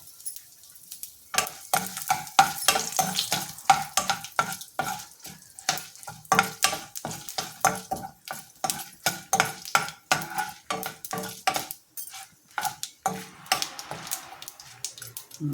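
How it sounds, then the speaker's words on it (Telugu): Spices tempered with asafoetida and red chilli splutter and fry in hot oil, with crackling bursts and rhythmic clinks of a spoon stirring the pan close by. "చిప్పట్లాడింది. ఆఫ్ చేస్తాను స్టవ్. పోపు వేగింది."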